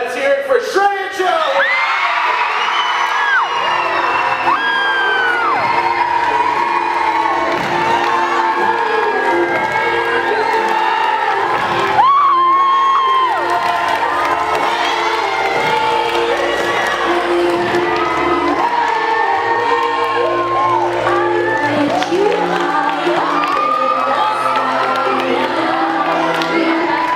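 An audience at the 2014 MMS Poetry Awards in Maplewood, NJ cheers, whoops and applauds an award winner: a loud, sustained roar of mixed adult and children's voices that lasts throughout.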